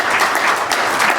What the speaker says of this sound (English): Would like you to welcome with a round of applause